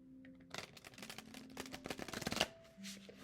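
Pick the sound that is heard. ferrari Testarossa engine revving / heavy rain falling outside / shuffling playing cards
shuffling playing cards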